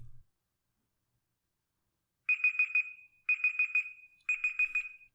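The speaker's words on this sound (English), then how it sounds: "After 1 minute, there will be a buzzing sound." Google Search's built-in timer alarm goes off once the minute is up, sounding three short, bright buzzing beeping bursts at regular intervals, each about half a second long, clear and alone after a moment of silence.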